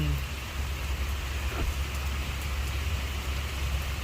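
Steady rain falls on a Newark, New Jersey street, a continuous dense hiss with a low rumble beneath it that may be passing traffic, holding even throughout with no voices.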